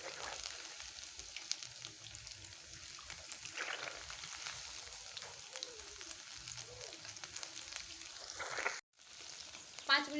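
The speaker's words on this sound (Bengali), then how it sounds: "এরকম হালকা আঁচে আমি পকোড়াগুলো কিছুক্ষণ ভেজে তুলে নেব। এইভাবে একটু নাড়িয়ে দেব।" Chicken pakoras frying gently in oil over low heat, a quiet, even bubbling sizzle with occasional soft stirring clicks, briefly cutting out near the end before resuming.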